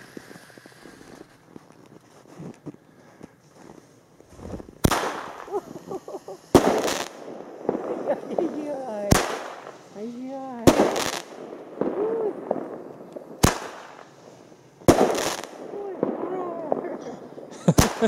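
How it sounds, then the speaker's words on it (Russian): Several sharp fireworks bangs burst one after another at irregular intervals, with people talking and exclaiming in between. "Мама поджигает салют."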